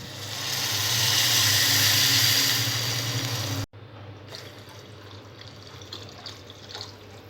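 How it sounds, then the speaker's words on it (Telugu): Water pours into a pot of tamarind rasam in a loud, swelling rush that stops abruptly partway through. Quieter drips and a low simmering wash follow after it. "చింతపండు రసం వేసిన తర్వాత వాటర్ వేసుకోవాలి."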